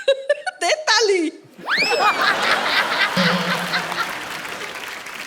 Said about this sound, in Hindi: दे ताली